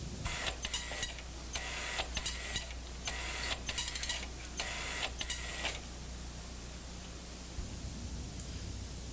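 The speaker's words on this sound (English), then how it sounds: "if I'm happy with this result, I may want to have a permanent copy so I can print it out to the printer." A printer runs a printout of a lab data plot in bursts of mechanical whirring and buzzing, with short pauses between passes, at moderate level in a quiet room before falling silent.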